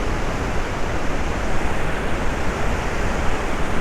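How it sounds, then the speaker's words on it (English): Continuous roar of Iguazu Falls in the Brazilian national park, a dense, steady broadband rush of cascading water that fills the scene without pause, loud and close, with no other sounds emerging above it. "I don't know if you can even hear above the sound of the waterfalls."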